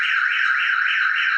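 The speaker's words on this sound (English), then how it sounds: "Starline alarm," A Starline smart car alarm sounds alone, a loud, steady electronic tone warbling up and down in regular sweeps throughout.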